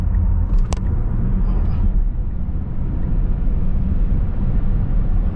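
Tesla Model S Plaid accelerating in Plaid mode on a clear road, a loud steady low rumble and road roar that stays level and constant throughout, heard from inside the car with no talking.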